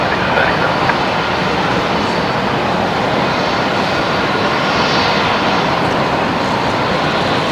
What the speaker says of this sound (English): One of the old kangaroos with paws there on the 737 here that's pushing back.